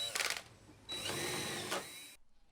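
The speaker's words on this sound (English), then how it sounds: "Then I pre-drill, countersink, and fasten." Power drill whirring while pre-drilling, countersinking and fastening a replacement deck board on an outdoor deck, a short burst and then a longer steady run of motor noise, close and moderately loud, cut off abruptly.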